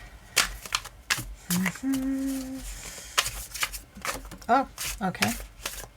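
Tarot cards from a deck are shuffled and drawn: quick papery flicks and riffles in short bursts, close by, while a person speaks over them.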